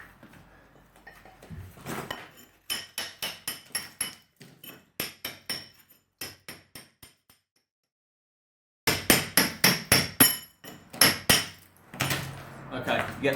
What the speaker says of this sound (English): hammer and bolster